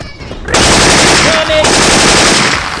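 Syphon Filter weapon sound effects modded into Left 4 Dead 2, as a rifle fires a sustained loud burst of rapid automatic gunfire after a brief quieter lead-in, with game noise around it.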